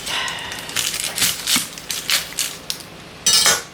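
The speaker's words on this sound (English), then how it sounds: "of red apples. So I'm just going to chop this up." A knife chops red apples on a board in a home kitchen, with a run of sharp, uneven clacks and crunchy cuts close by, irregularly spaced with short pauses between strokes.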